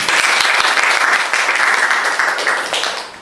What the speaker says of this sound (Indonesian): tepuk tangan buat Arina